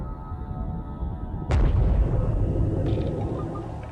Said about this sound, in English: Water pressure triggers the explosion, sending a shockwave ripping through the ocean.